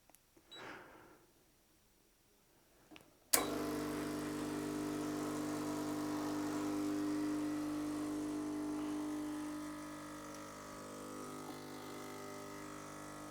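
A Gaggia Classic espresso machine's pump brews coffee for a cappuccino. After a few quiet handling noises, a steady vibrating hum starts abruptly, holds at pressure, then eases slightly toward the end.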